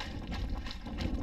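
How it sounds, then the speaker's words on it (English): Steady, blustery wind rumbling and buffeting against a microphone during a run, a low continuous roar with no voices. "A little windy up here."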